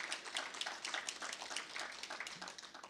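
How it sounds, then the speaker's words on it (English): A church congregation claps together at a faint, distant level, with steady overlapping claps that form a soft rhythmic patter for a few seconds. "go ahead if you want to clap and bless the Lord for it"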